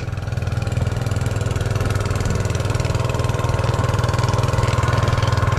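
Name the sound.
engine of a watering pump idling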